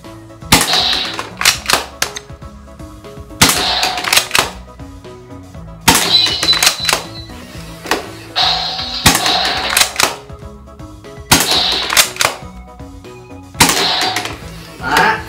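Shots from an FJ908 foam dart toy gun with LED lights, fired from a distance in six sharp clattering bursts, each a quick mechanical snap followed by rattling, evenly spaced and loud.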